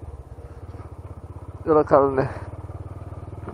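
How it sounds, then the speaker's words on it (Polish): A motorcycle engine idles with a steady, rapid pulsing putter, close by, while a voice speaks briefly over it partway through. "I ten motor mnie tam zainteresował, chciałem go zobaczyć."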